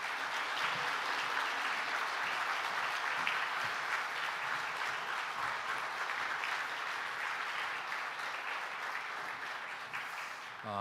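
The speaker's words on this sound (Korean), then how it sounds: "우리 이 시간 엄용희 목사님 올라오셔서 말씀 전해 주실 때 우리 은혜 환영합니다 라는 큰 박수 보내주시면 감사하겠습니다" A church congregation at a Sunday Baptist service gives long, sustained applause to welcome a visiting pastor, a dense wash of clapping filling the hall at steady volume.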